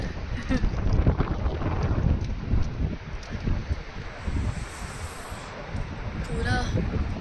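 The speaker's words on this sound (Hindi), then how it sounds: "हवा चलनी शुरू हो गई अभी" Strong outdoor wind buffets the microphone in steady roaring gusts on a cold 10-degree day in Melbourne, Australia, with a voice talking over it.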